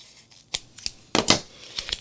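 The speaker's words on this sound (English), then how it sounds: "And then I just cut it and tear it." Paper strip being snipped with scissors and torn by hand for a Gelli plate flower craft: a few sharp close cuts, then a louder ripping burst and more light snips.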